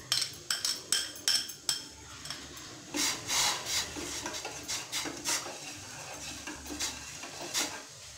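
A spoon scrapes and clinks against a vessel while sugar is stirred into water, brisk repeated strokes in quick rhythmic bursts, close by and with no voices.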